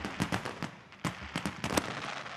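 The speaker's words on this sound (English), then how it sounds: "I've got message effects, and I can give myself some fireworks." The fireworks message effect in the Mac Messages app on macOS Big Sur plays a rapid string of crackling, popping bursts, moderately loud and continuous, with no voice over them.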